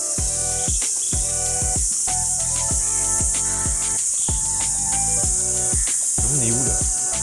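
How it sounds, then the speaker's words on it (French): Cicadas in an outdoor spot near Mumbai, a loud continuous high buzz running the whole time over repeated low rhythmic thumps and tonal sounds. "Je sais pas si vous entendez là les espèces de cigales qu'on entend."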